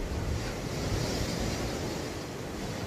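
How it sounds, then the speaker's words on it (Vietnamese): Ocean surf washing hard onto the shore at Six Senses Ninh Van Bay near Nha Trang, a steady, loud roar of waves with wind buffeting the microphone throughout. "sóng nó tạt vô dữ luôn."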